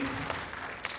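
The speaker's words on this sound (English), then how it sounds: "Can we please have a big round of applause for the kids?" Applause for children at a kids' school annual day, a short tail of crowd clapping with a couple of distinct sharp claps poking through, fading and fairly soft.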